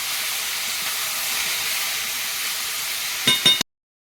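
Greens frying with turmeric in a pan give a loud, continuous hissing sizzle, then two brief bursts just before the sound cuts off abruptly.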